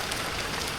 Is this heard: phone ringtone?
no